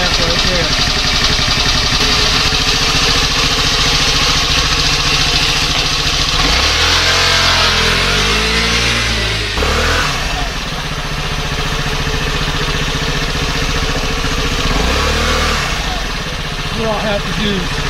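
A 1974 25 hp Johnson outboard motor runs loudly and close, a steady idling drone that rises and falls in pitch as it is revved, with a voice talking over it at times.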